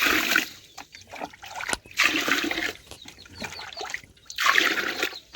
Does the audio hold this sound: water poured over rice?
yes